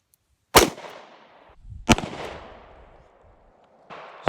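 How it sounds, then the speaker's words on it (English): A Taurus Public Defender Poly revolver fires .410 number 6 birdshot outdoors, two sharp loud reports with a decaying echo each, followed by the start of a third blast at the end. "our last shot, 15 yards away from our target with a 410 shell number 6"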